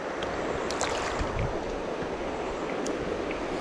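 Flowing water of the Jackson River tailwater in western Virginia rushes in a steady, broadband wash, close and continuous with no voices.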